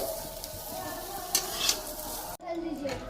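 Young jackfruit fries in oil in a pan with a constant soft sizzle, broken by a few scraping stirs with a spatula, close up; the sizzle briefly drops out near the end, then resumes.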